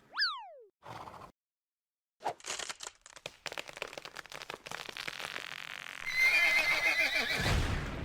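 A cartoonish horse whinny opens with a sharp rising-falling squeal, followed after a pause by a dense flurry of clip-clop hoofbeats and game effects from Arzette, building louder toward the end.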